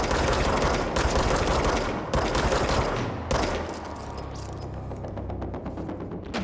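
Sustained bursts of gunfire in the video game Control, loud and dense with rapid overlapping shots and brief pauses, fading into quieter game ambience toward the end.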